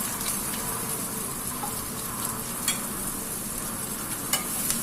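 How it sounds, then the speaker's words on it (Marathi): Finely chopped onions with a bay leaf sauté in hot oil for dhaba-style chole, a steady close sizzle with faint scraping stirs and a couple of small clicks. "छान परतून घेऊया."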